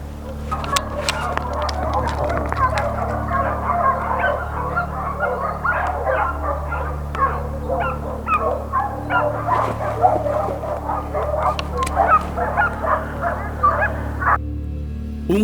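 Hunting dogs bark, yip and whimper throughout a boar hunt in Spanish brushland, a pack of overlapping barks near and far in an irregular rhythm over a constant low hum, with someone speaking Spanish over them.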